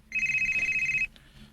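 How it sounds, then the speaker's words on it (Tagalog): A mobile phone ringtone sounds as a steady bright electronic tone for about a second, then cuts off, leaving a faint room hush. "Di man deron akong cellphone di ay."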